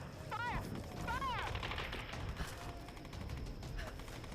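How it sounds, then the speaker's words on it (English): A submachine gun fires in rapid bursts in the action game Tomb Raider (2013), with sharp repeated cracks and mechanical clatter under whooshing game effects, moderately loud. "I hate the SMG so much."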